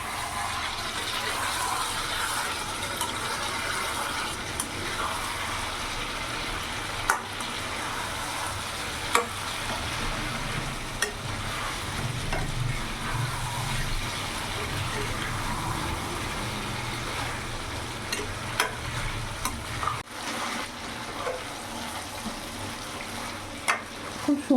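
Bihari-style chicken is sautéed (kosha) in a pan, giving a long, continuous sizzle with occasional clinks and scrapes of stirring. It stays steady and close throughout, with a brief dip near the end.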